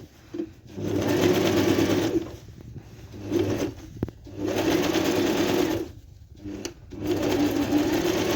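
Sewing machine stitching fabric in bursts of about a second or two, a fast buzzing whir starting and stopping with short quiet pauses between runs, close and alone.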